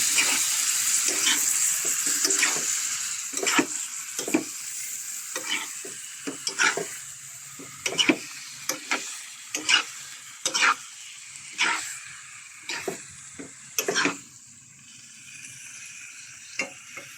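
Chicken pieces cooking in a pan are stirred in a series of distinct scraping strokes, roughly a dozen uneven bursts over a low background sizzle, close by and with no talking.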